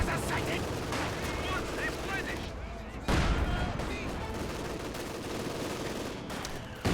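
Machine gun fire in a Company of Heroes 2 battle rattles in dense, loud bursts alongside other gunshots and booms, with a sharp heavy blast around the midpoint and a voice talking over it.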